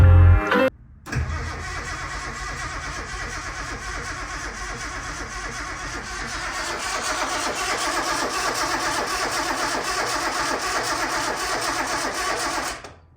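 A barn-find Datsun 240Z engine cranking on fresh fuel after sitting for decades: a short sound at the start, then a long, continuous mechanical whir of the starter turning the engine over, steady and loud until it cuts off.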